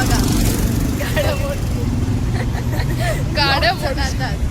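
Cars and traffic pass on the road outside Sky City Mall, a continuous low rumble of engines with occasional horn-like tones, while voices chatter nearby over the steady traffic.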